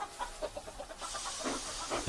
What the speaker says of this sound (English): And Billy steamed off